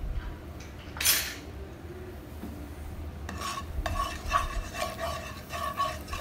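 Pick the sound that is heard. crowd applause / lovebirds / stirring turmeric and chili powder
stirring turmeric and chili powder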